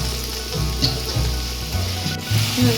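Fish head masala with onion sizzles steadily in a pan as water is poured in, giving a close continuous frying hiss with bubbling and a few soft knocks.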